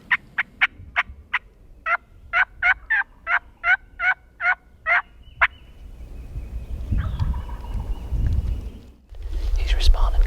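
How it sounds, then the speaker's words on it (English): A wild turkey gobbles about fifteen times in a rapid rhythmic series from the woods of a creek bottom, loud and clear, followed by rustling and faint whispering. "He's responding good, gobbling a ton."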